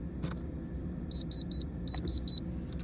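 A handheld thermal conductivity tester pressed to a raw stone gives a series of short, high electronic beeps in quick bursts, heard over a steady low rumble of room or vehicle noise, no talking.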